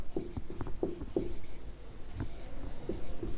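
Chalk or pen writing on a board during a chemistry lesson, a series of close scratchy strokes and short taps in uneven bursts, with no speech over it.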